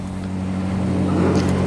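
A 3.5 litre straight-six in a BMW E28 5 Series idles steadily at a car meet, a close, even low hum with a slight swell toward the end, no talk over it.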